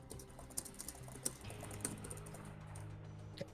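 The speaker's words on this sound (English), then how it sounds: "you have to mute your keyboard because everyone can" Fast, steady computer keyboard typing picked up faintly over a microphone, with several louder keystrokes standing out and no talking.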